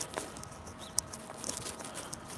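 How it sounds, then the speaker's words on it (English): Light misty rain falls on a Brooklyn street as a faint, soft patter with a few small ticks and drips over quiet outdoor background noise. "Now it's kind of like light rain,"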